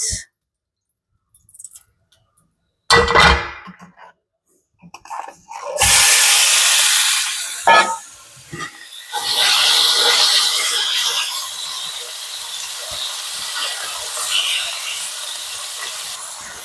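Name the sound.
meat being sautéed in a pan for rhubarb stew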